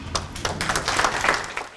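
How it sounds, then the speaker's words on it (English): A small audience gives a brief, scattered round of applause for a graphic designer at a downtown improvement gathering in Hilo, claps close and moderately loud for under two seconds. "A little round of applause, please."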